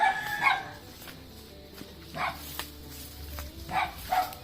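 A dog barks in short bursts on a farm, a few sharp barks near the start and more toward the end, with quieter stretches and a low rumble in between.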